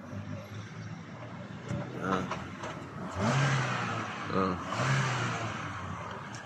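Motorized trike engine running on a street in the Philippines, a mid-pitched motor humming and revving up twice, moderately near, under background noise and some faint voices.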